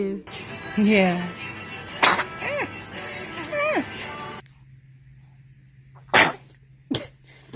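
Several small baby sneezes and coughs, high and sudden, come close to the mic, with an adult voice cooing and talking between them and a faint hum behind.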